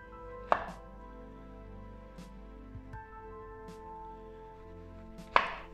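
Celery is chopped into cubes and circles: a few sharp knife knocks on a cutting board, spaced seconds apart over a faint steady hum, with no talking.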